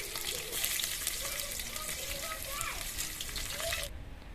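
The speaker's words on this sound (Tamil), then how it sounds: "வெங்காயம் நல்லா வதங்கட்டும்." Onions fry in oil, sizzling steadily with a dense crackle, broken by a few higher squeaky scraping sounds; the sizzle cuts off near the end.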